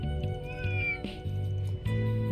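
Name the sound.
cat meowing in The Legend of Heroes: Trails Through Daybreak video game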